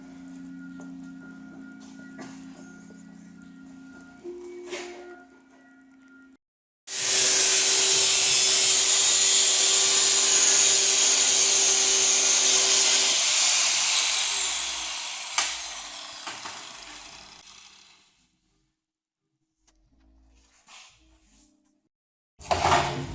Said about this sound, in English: don't grind for a second, Mitch